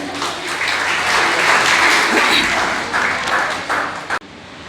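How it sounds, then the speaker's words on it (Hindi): Hall audience at a college Teacher's Day celebration claps to welcome the chairman onto the stage, a dense, sustained round of applause that swells, holds, then cuts off abruptly near the end, leaving quieter room noise. "तालियों की गड़गड़ाहट के साथ स्वागत करते हैं अपने चेयरमैन सर का।"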